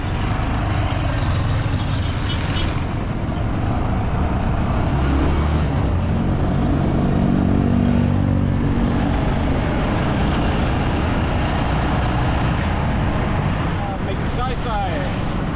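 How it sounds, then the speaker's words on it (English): Engine drone of a motorcycle tricycle (trike) heard from inside during a ride through Olongapo City streets, loud and steady with surrounding traffic rumble, no voices. "I'm inside a trike here in Olongapo City. Take a little trike ride up north"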